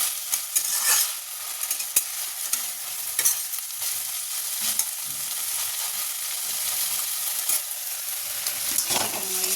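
Large prawns frying in hot oil in a pan, a dense continuous sizzle with occasional stirring scrapes, close and steady throughout, no voices.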